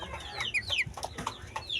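Clucks from a young chicken, a month-old chick of Jutaco and Dumpo gamefowl lines, sound in short, scattered bursts over a noisy farmyard background, with higher chirpy notes mixed in.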